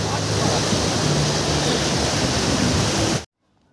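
River water at Bhairabkunda rushes in a loud, steady, close-up roar that runs for about three seconds and then cuts off abruptly.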